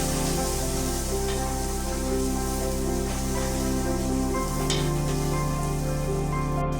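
Onions sizzle and fry steadily in a hot pan for chicken curry, a dense continuous crackling hiss under a loud droning background hum that shifts in pitch partway through.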